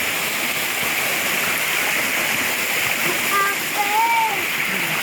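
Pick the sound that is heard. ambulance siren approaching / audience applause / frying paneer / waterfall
waterfall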